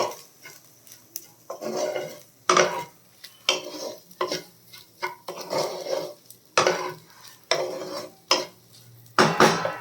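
A spatula scrapes and clanks rhythmically against a pan as egg is fried and stirred together with beans and carrot, regular stirring strokes over a faint sizzle.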